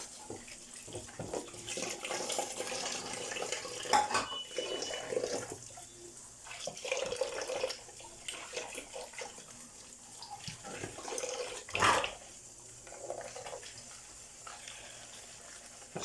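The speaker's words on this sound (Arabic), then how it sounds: "شغاله الميه سخنه عشان تنزلي اي زفاره." Hot water running from a kitchen tap while dishes are washed, a continuous soft splashing stream with intermittent clinks and clatters of plates, fairly quiet and close, no speech.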